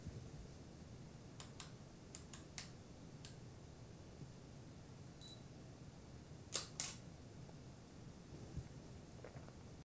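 A camera shutter fires several times, sharp isolated clicks and double-clicks spaced irregularly over a faint steady hiss, with two louder shutter releases near the middle; each frame is taken at a different aperture, one of them at f16.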